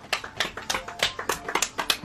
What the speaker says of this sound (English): I am clapping now